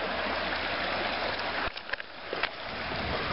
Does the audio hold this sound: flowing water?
yes